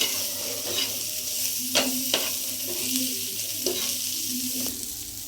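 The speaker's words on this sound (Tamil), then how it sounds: "இந்த மசாலா வேகிற வரைக்கும் நல்லா கிண்டி விட்டுக்கிறோம்" Prawn pepper masala fries in a kadai with a continuous close sizzle, punctuated by several sharp spatula scrapes and knocks against the pan as it is stirred.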